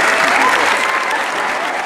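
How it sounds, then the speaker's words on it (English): Audience at a dance performance by children with disabilities breaks into loud, dense applause that stays steady throughout, with a few voices rising from the crowd. "hear the roar of applause"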